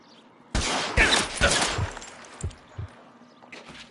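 Gunfire in the PS4 video game L.A. Noire: a loud burst of shots erupts at the start, followed by a few separate sharp cracks that fade into quieter background.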